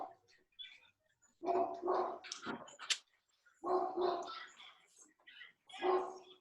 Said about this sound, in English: So with deference to the barking dog,